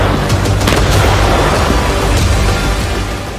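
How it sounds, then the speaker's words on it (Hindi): Loud, sustained explosion rumble from a war strike in Ukraine, a dense continuous roar with deep low-end weight that slowly fades at the end. "इस वीडियो में ज़ेलेंस्की को डराने वाला बहुत बड़ा धमाका है"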